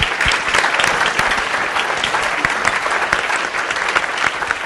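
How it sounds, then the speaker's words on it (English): Loud, sustained applause from a summit breakout audience for its panelists, dense clapping that stays strong and even from start to finish with no talking over it. "Can we get a round of applause for our great panelists today?"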